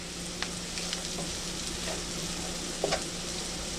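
Chopped radish greens cooking down in butter in a pan give a steady, fairly soft sizzle with a few faint clinks, no talking.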